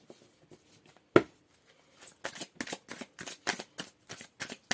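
Tarot cards being shuffled close up, an opening snap followed by a quiet pause, then a rapid series of crisp riffles and slaps.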